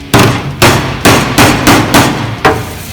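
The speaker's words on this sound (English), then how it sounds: "I can go underneath with the dolly and the smaller hammer and kind of stretch it all even" A smaller metalworking hammer strikes sheet metal backed by a dolly, giving seven loud, ringing clangs at a steady, slightly uneven pace, close up with no voices.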